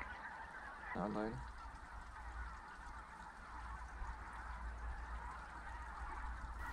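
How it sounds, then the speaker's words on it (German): Geese honking in flight toward their roosts at dusk, a brief cluster of nasal calls a little way off over a low, steady ambient background. "konnten wir hauptsächlich Gänse auf dem Flug zu ihren Schlafplätzen beobachten"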